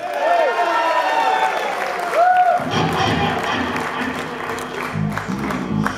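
Applause and cheering from a concert audience for a band's drummer in Workington, UK, 2013; sharp whistles and whoops open it, then a loud wash of clapping and crowd noise swells and carries on steadily.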